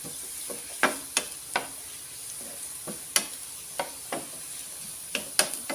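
Ginger fries in a pan with a soft, constant sizzle, broken by sharp scraping knocks of a utensil stirring it at irregular intervals, nearby and without talk.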